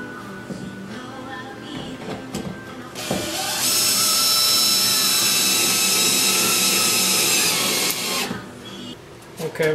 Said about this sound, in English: Put some screws in to tack this down.